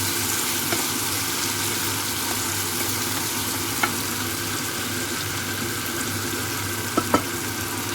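Prawns fry in a pan for a spicy prawn thokku, giving a continuous even sizzle up close with a few faint clicks of a utensil near the end, no talking.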